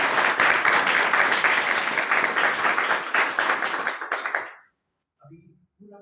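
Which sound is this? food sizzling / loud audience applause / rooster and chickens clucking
loud audience applause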